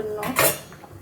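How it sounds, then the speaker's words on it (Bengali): A metal wok being set down on a stove burner, a single brief metallic clatter and scrape, close and moderately loud, with no talking. "কড়াই বসিয়ে দিয়েছি"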